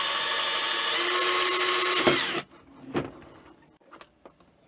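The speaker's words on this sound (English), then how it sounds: "I'm going to drill a hole right here in the side, slick as can be" A power drill bores a hole through the side of a Harbor Freight plastic drill case, a loud close whine for about two seconds that stops abruptly, followed by a few faint clicks and handling knocks.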